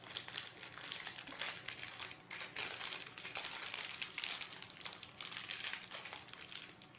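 Crinkling and tearing of plastic or packaging while assembling a Tamiya 71107 remote control mechanical insect robot kit, a close, continuous rustling crackle with brief pauses.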